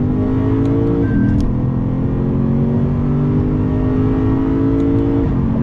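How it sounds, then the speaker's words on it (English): The V8 of a 2020 Lexus RC F revs under throttle, a loud, steady engine drone that holds one pitch, dips briefly and climbs again, with no talking over it. "But one thing, boy oh boy, is this V8. On throttle."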